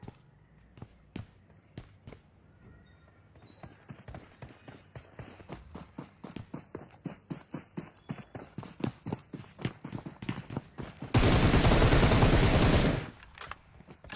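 Gunfire from the battle-royale video game PUBG: a long run of rapid, evenly spaced shots that grows louder, then a dense roaring blast for about two seconds before single shots resume.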